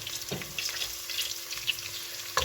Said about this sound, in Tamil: இப்போ இதில் பச்சை வாசம் போகிற வரைக்கும் வதக்கி கொள்வோம்